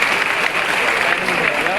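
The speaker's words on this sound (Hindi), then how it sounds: "जोरदार ताली बजाएं मार्गे साहब के लिए कर्नाटक से" Loud, dense applause from a delegates' assembly greeting the Karnataka team, continuous clapping at close range with no pauses.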